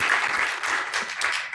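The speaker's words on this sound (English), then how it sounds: "so let's give Che a round of applause" Live audience at a ceramics conference session applauds a panelist, a steady, close wash of many hands clapping throughout with no talk over it.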